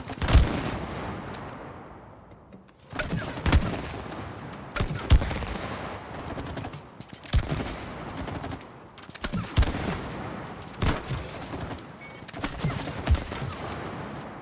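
Repeated bursts of gunfire aimed at targets in the co-op video game It Takes Two, coming in several loud volleys separated by short pauses.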